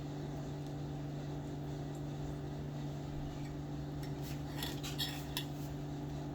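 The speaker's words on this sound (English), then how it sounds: "Try to scrape all of it out the bowl." Utensil scraping leftover garlic and herb mixture out of a bowl while preparing an oven-roasted turkey, soft scratchy clinks over a steady low hum, with a few brighter scrapes near the end.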